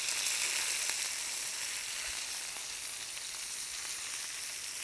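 Endives browning in a hot pan give off a steady, even sizzle with fine crackling that carries on at a moderate level throughout.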